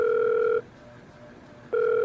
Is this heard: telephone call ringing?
yes